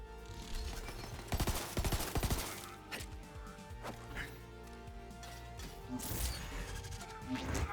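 Gunfire rattles in Borderlands 3, with clusters of sharp shots and bursts scattered over a busy combat mix, some crashing impacts, and moderate loudness.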